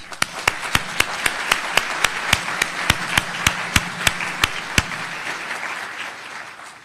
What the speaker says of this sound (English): So another applause for our speakers, please.